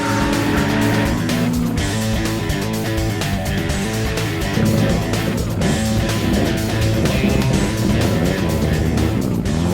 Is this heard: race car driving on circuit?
yes